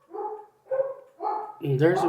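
Several dogs bark at home in a run of four fairly close, loud barks with short gaps, the last one longer and harsher, with no other sound underneath.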